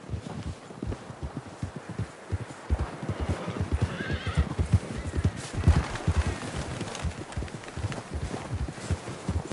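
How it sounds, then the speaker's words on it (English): Horse hooves in a video game clip-clop steadily at a trotting pace, with a horse neighing partway through; continuous and fairly close, no talking. "John was riding that horse when we left Blackwater"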